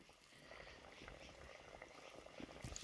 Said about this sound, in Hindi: यहाँ से तेल भी गर्म हो चुका है। इसमें हम ये फ्राई कर लेंगे ये कबाब।